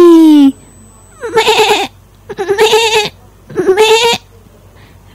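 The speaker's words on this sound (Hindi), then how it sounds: "बकरी।" A goat bleats three times in drawn-out, wavering calls with pauses between them, loud and close, heard after a short spoken word in a children's alphabet lesson.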